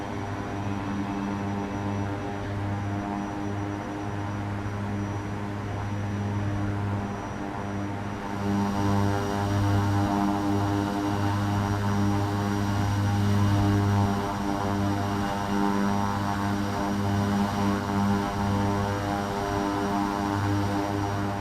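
Propeller aircraft engines in the X-Plane 10 flight simulator, climbing out with the props pulled back slightly: a steady, loud, harmonic drone that holds throughout and swells a little partway through.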